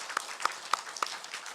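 A church congregation claps during a Sunday worship service, a few quiet, separate claps about a third of a second apart, thin and distant.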